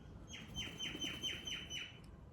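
A bird chirps outdoors in a steady series of about six sharp, repeated high tweets, fairly faint, over a low rumbling background with no talk.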